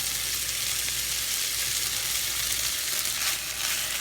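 Rice with onion sizzles and fries steadily in a pan, a continuous close hiss with faint stirring scrapes and no talking.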